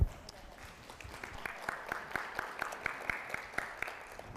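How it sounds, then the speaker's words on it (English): Sparse, weak clapping from a small audience at a middle school community meeting, individual claps spaced out and fading, fairly faint, with a voice speaking over it. "It was a very poor attempt at an applause, but I'll take what I can get."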